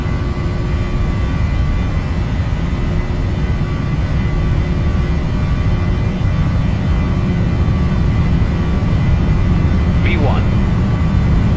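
Jet engines of a Ryanair airliner at takeoff thrust during the takeoff roll: a steady, loud, broadband roar with a low rumble, constant throughout and heard from inside the aircraft, with faint voices underneath.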